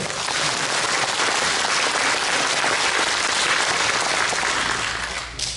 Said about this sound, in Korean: 여러분 동의하시면 박수 한번 보내주십시오.